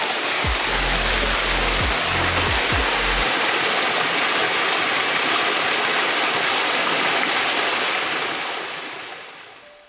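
Cascade Falls waterfall roaring as a loud, steady rush of water close by, with a few low thumps near the start and a gradual fade at the end.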